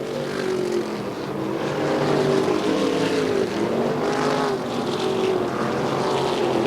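Winged USAC midget race cars roar around the dirt oval at Raven Raceway on a Friday night, a loud, continuous engine drone with rising and falling pitch as the cars power through the turns.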